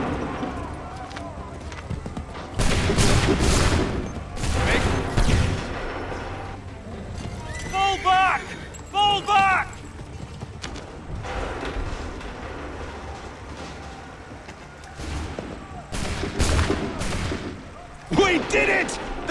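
Musket volleys fired on command at Lexington and Concord in Assassin's Creed III, sharp crackling gunshot bursts mixed with horse whinnies, hoofbeats and battlefield noise, with shouted orders and talk between the shots.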